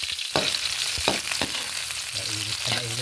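Onion sautéing in oil in a hot pan gives a loud, steady sizzle, with several spatula scrapes and knocks against the pan, close and continuous with no talk.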